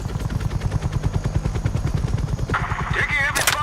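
Heavy automatic gunfire in Call of Duty Black Ops Cold War rattles in rapid, loud, close bursts under a helicopter's throb, with a shout breaking in near the end.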